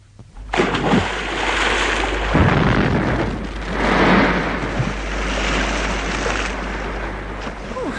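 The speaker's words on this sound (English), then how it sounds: "I'm going to throw it into the river." A case thrown into a river in a BBC radio drama detonates: a sudden loud roaring blast with splashing water that surges, swells again midway and slowly rumbles on, close and dominant.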